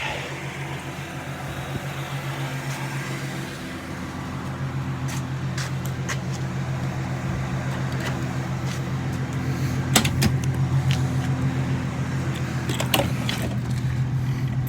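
A 1997 Ford Thunderbird 3.8 V6 idles steadily under a constant whirring radiator fan, with a few faint clicks and taps scattered throughout, no voices.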